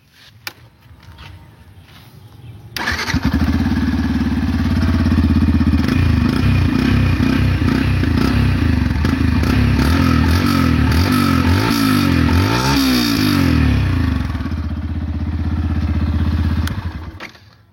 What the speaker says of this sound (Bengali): আর তোমাদের আমি এক্সস্ট নোটটা একবার শুনিয়ে দিই বাইকের